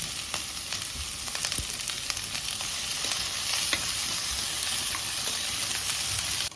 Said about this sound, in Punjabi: ਗੈਸ ਦਾ ਫਲੇਮ ਆਪਾਂ ਮੀਡੀਅਮ ਰੱਖਾਂਗੇ ਤੇ ਸਬਜ਼ੀਆਂ ਨੂੰ ਆਪਾਂ 4 ਤੋਂ 5 ਮਿੰਟ ਤੱਕ ਪੱਕਣ ਦੇਵਾਂਗੇ